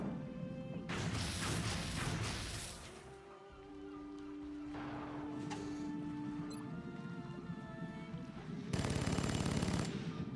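Video game gunfire from X-COM Long War: loud bursts of automatic fire crackle at the start and again near the end, with heavy crashing impacts and a sustained tonal hum between the volleys.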